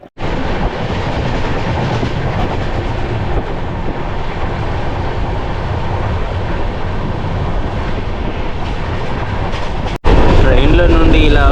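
A continuous loud rumble of the Vivek Express passenger train moving along the tracks, heard from inside, with a sudden change in sound near the end.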